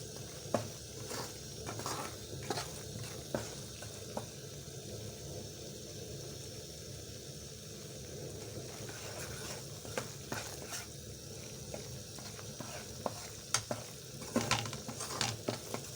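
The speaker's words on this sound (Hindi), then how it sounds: "आटे को हमने तब तक भूनना है जब तक इसका कलर ना आ जाए।" Wheat flour roasting and being stirred in a pan for aata halwa, a faint continuous sizzle with soft, irregular scraping taps from the spoon, quiet and close.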